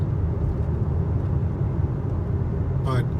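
Road noise inside a 2018 Mazda CX-5 AWD Touring on the move: a steady low rumble and broadband hum that holds constant throughout, with a brief chirp near the end.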